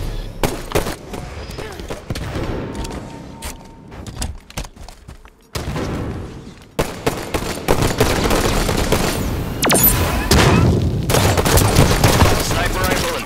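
Halo 5 ranked slayer match with dense gunfire: rapid automatic bursts and sharp single shots stack up, a brief lull, then heavier sustained firing, with voice chatter underneath.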